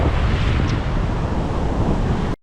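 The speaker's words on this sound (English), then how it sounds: "Those waves decreasing." Ocean waves break and wash onto Tamarama Beach, a busy suburban Sydney surf beach, with a steady loud roar of surf close by and some wind buffeting the microphone, cutting off abruptly at the end.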